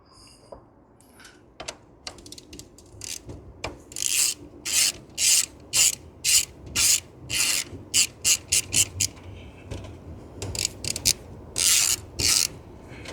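Ratchet turning an 8mm socket on bolts in the engine bay of a 2004 Jaguar V8, giving rapid bursts of close clicking in repeated strokes with short pauses between them.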